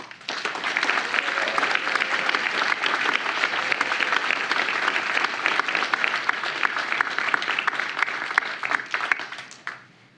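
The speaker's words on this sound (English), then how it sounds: "Please join me in another round of applause for everyone" Sustained applause from an awards ceremony audience, a dense, even wash of many hands clapping that holds steady for about nine seconds before fading out at the end.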